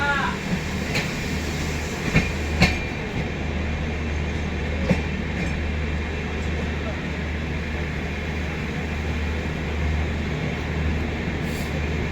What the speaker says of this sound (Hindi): और ये भी इस ट्रेन का भी डिपार्चर हो गया, लीजिए।